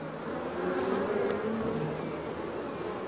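A swarm of bees hums around an open hive during inspection, a dense, steady drone with shifting buzzing tones close by, no talk.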